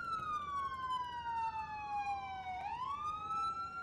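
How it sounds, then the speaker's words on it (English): A police siren in the video game LCPDFR wails continuously, its pitch sliding slowly down and then rising again, clear and steady with no talking. "Where is that siren?"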